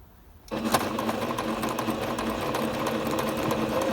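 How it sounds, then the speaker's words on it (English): A Singer Starlet 6680 sewing machine starts up after a quiet moment and runs steadily, its close, rapid mechanical chatter stitching a zigzag buttonhole on light fabric. "we use the foot and start the machine"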